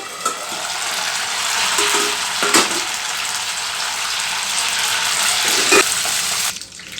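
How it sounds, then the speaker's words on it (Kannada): Curry leaves frying in hot oil give a steady, hissing sizzle close by, interrupted by a few sharp clicks and knocks of a utensil, before the sound cuts off near the end; no talking. "ನೋಡಿ ಕರಿಬೇವೆಲ್ಲ ಫ್ರೈ ಆಗಿದೆ"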